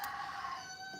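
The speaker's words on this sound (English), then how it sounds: "the rooster is going crazy" Rooster crowing, a single drawn-out call with a harmonic, slightly falling tone, fairly faint and at middle distance, alone without talk.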